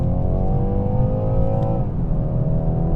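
A 2019 BMW 430i xDrive Gran Coupé engine roars loudly as it accelerates hard from a standstill in winter, pitch rising steadily before dropping at a gear change, then pulling again.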